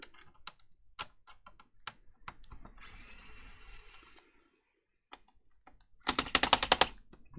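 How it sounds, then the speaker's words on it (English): Screws being removed from the back of an HP device: scattered sharp clicks and taps, a steady whirring tool run in the middle, then a loud dense burst of rattling clicks near the end, with no speech. "I've missed some screws along the back here."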